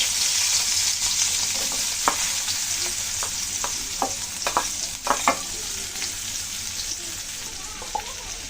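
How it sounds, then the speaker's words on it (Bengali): Onions sizzle in hot oil in a wok, a steady close frying hiss with scattered sharp clicks of a stirring utensil, no voices. "আমি প্রথমে এই পেঁয়াজগুলো ভেজে নিচ্ছি, আলু ভর্তার জন্য ভেজে রেখে নিচ্ছি"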